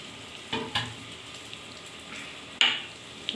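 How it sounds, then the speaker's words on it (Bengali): Water is poured into a pan of frying pointed gourd and potato with yogurt and raw mango, giving a quiet sizzling hiss broken by a few sharp spitting bursts, the loudest late on. "একটুখানি জল দিচ্ছি, জলটা আমি ঢেলে নিয়েছি।"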